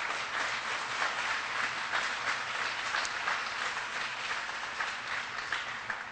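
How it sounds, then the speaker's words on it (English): Steady applause from a large crowd at a President Obama event in California, a continuous wash of clapping that holds at an even level for several seconds. "Please give them a big round of applause."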